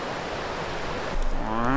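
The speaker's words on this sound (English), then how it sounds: "This is the Green River." The Green River on the Wind River High Route rushes as a steady, close wash of flowing water, with a brief rising tonal whine entering near the end.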